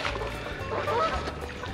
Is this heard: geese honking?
yes